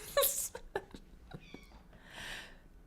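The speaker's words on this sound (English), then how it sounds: "Now it's just a cat screaming." A cat lets out several loud, strained yowls and screams in quick bursts, close by, followed by a softer hissing rush of noise at the end.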